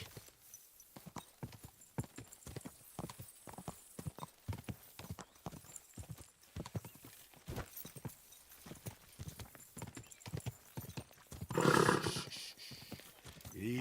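Horse galloping in the video game Kingdom Come: Deliverance 2, a steady rapid clip-clop of hooves throughout, with a louder snort or whinny burst near the end.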